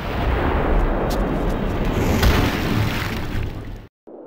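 Cannon blast from a cutscene in a horror video game: a loud, sustained roaring rumble that holds for several seconds before cutting off abruptly into silence.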